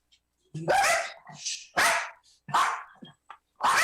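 Dogs at home bark in a few loud, close bursts spaced about a second apart, with short yips between them.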